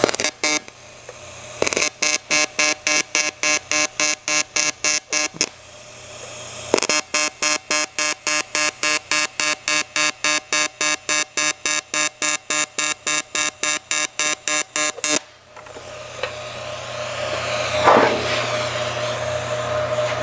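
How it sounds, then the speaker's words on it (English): Tack welding on a metal panel for a Jaguar E-Type bonnet, heard as a long run of rapid, evenly spaced buzzing pulses that pause once, then continue and stop, leaving workshop noise behind. "Now this is going to be trimmed off here, but I'm going to weld it up anyways."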